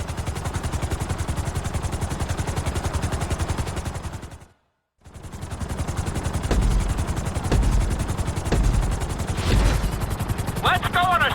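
A video game helicopter drones with a steady rapid rotor chop, loud and continuous, cutting out briefly midway, then resuming with clattering impacts and a short electronic chirp near the end.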